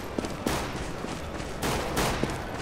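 Rapid gunfire bursts from the video game CS:GO crackle in quick succession, sharp reports layered over a dense, noisy game soundscape.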